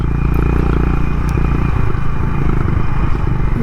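A Honda Highness motorcycle rides mountain curves in the Spiti Valley near Hikkim with traction control switched off, its engine loud and close in a continuous throbbing drone with faint clatter.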